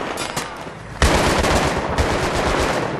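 Rapid automatic gunfire in a Battlefield 3 co-op firefight, loud and close, sustained bursts that intensify sharply after a brief lull, with dense overlapping shots throughout.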